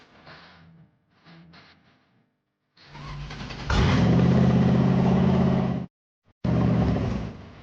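A car in the Roblox game Berry Ave, starting with short engine bursts and then revving up into a loud, sustained drive. It cuts out briefly and resumes, close with no talking.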